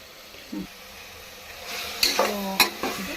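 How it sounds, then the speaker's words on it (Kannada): Ground masala paste frying in a pan for a mutton dish, a close, low sizzle punctuated by a few sharp scraping stirs of a spoon against the pan. "ಫ್ರೈ ಆಗುತ್ತಾ ಇದೆ"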